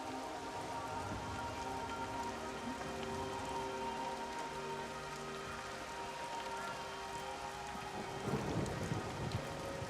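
Steady video game rain patters continuously over a soft background hum, with a slightly louder splashing burst near the end, in Everybody's Gone to the Rapture.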